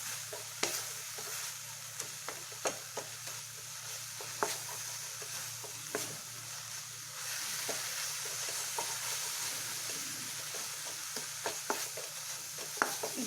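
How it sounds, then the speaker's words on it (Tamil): A paneer and beetroot fudge mixture is stirred in a pan over heat, giving a soft steady sizzle broken by repeated scraping and tapping strokes of the spoon, quiet and close, with no talk. "கொஞ்சம் சுண்டட்டுங்க, ஒரு 2-3 நிமிஷம் கிளறி விட்டுடலாம்."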